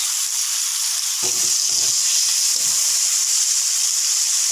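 Vegetable curry frying with chili powder in a pan, a loud, steady, bright sizzle with a few low stirring scrapes, close up and without talk.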